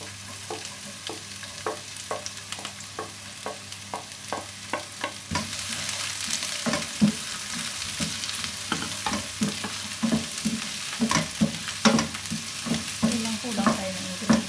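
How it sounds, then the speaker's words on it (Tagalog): Ingredients sautéing in a hot pan for Arabic-style mashed potato (kura patat), a continuous sizzle broken by repeated scraping stir strokes, growing louder and busier partway through. "Gisa na tayo guys."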